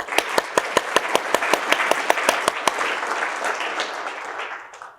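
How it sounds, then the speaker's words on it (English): Applause for military families at a Veterans Day celebration, opening with evenly spaced rhythmic claps over a crowd's dense clapping, which carries on loudly before tapering off near the end. "let's give a round of applause for military families"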